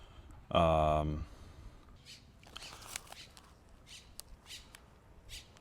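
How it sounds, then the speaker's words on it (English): A young grackle gives one loud, harsh, close squawk after rain in a Sonoran Desert garden, followed by quieter rustling and faint background sounds. "There's a young grackle right there."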